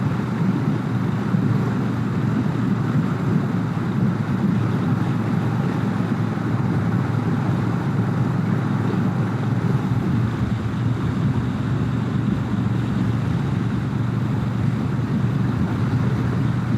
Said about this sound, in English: Getting windy over here.